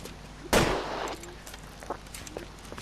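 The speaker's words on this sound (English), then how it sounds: "He's got a revolver. He's 2 shots gone." A revolver fires in the 1940s detective video game L.A. Noire: one sharp, loud report with a short ringing decay, followed by quieter scattered game sounds.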